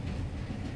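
Vietnam's Reunification Express running north on its rails from Ho Chi Minh City toward Hanoi, a steady low rumble of wheels and carriage noise with no distinct beats, close and continuous.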